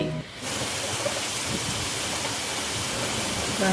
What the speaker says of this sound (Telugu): బాగా పడుతుంది కదా వర్షం